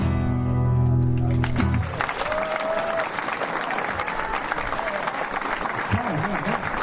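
Applause from a live audience at a concert, loud and dense for several seconds, mixing with music and a singer at the start and followed by someone speaking over the fading clapping.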